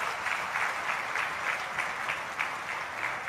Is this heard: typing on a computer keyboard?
no